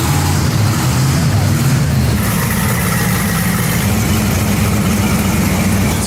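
A custom-built, real 1000-horsepower Halo Warthog vehicle with its engine running, a loud, dense, close rumble that holds steady the whole time, with a slight shift partway through.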